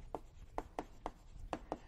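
Chalk or marker taps and strokes on a board during a biology lecture, six short crisp marks in a quick uneven rhythm, faint and close with no talking.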